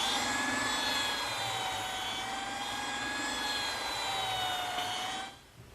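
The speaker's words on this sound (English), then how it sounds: "to smooth up the saw cuts from the jigsaw, I'm just using my small belt sander." A small belt sander smooths jigsaw cuts on a gardener's workbench project. It makes a steady high whine with a gritty rasp that shifts slightly in pitch, then cuts off abruptly near the end.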